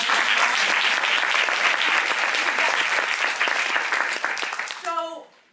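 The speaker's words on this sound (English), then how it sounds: "Can I have a round of applause?" A large audience at a science festival talk bursts into loud, sustained applause that holds strong for several seconds, then thins and fades out as a voice begins to come through at the very end.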